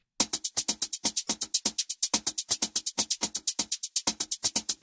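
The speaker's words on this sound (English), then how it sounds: "the feed forward really brings out the transients of the drums" A busy drum loop run through feed-forward compression plays alone and loud, a fast steady stream of hits with sharp, pronounced attacks, bright cymbal sizzle and tight kicks throughout.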